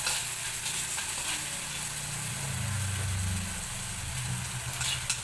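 Sliced onion frying and being stirred in a pan for a chili curry, a continuous hissing sizzle over a low rumbling hum, with no pauses throughout.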